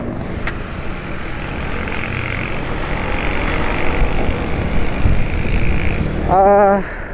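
A scooter engine running on full synthetic Daytona 10W40 oil hums steadily up close, a continuous even drone with a short tonal whine rising near the end.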